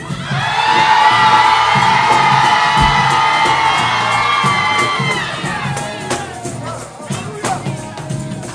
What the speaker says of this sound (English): I dare you to scream in this place.